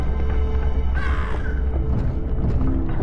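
A crow in the video game Monument Valley gives a loud, harsh caw close up, a single drawn-out call over a steady hum of game music and ambience.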